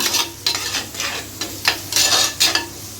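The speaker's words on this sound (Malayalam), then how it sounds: "ചെറിയ ഉള്ളിയും വെളുത്തുള്ളിയും ഇട്ടിട്ട് നല്ലോണം ഇളക്കി കൊടുത്തു" Shallots and garlic frying in a pan are stirred repeatedly, with bursts of spoon scraping and clatter at a quick, uneven rhythm over a steady sizzle, close and fairly loud.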